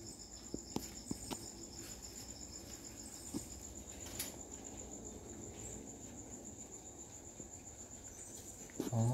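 Thai crickets kept on a farm produce faint, high, continuous chirping with scattered soft ticks and rustles nearby, steady and quiet with no talk.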